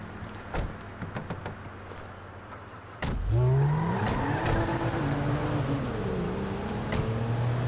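A car in the video game GTA V starts up after a few clicks, then its engine revs and shifts through rising and falling tones as it pulls away, loud and close, holding at a steady drone.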